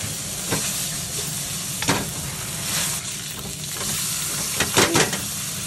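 Wagyu beef sizzles steadily in a pan with a little butter after garlic has been fried and removed, a dense continuous frying hiss close by with a few sharper crackles and stirring scrapes, no talk.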